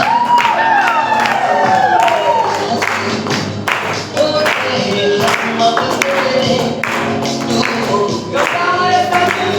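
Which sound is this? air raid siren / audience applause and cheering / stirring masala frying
audience applause and cheering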